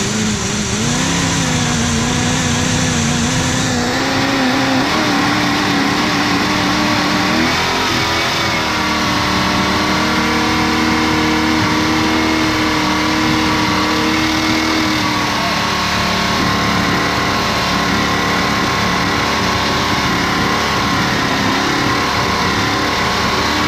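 The engine of a 1968 Dodge Charger, parked for 20 years, runs loud and close with a rough, lumpy note. It rises and falls as the throttle is blipped, then settles into a steadier run.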